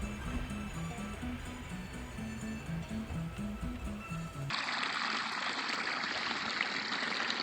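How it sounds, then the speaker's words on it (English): Hot spring water trickling from small springs on a mountainside at Kirkham, Idaho gives a soft, steady watery hiss, at first under a low rhythmic tonal pattern, then louder and fuller for the last few seconds. "Hot water keeps coming out of small springs in the mountainside."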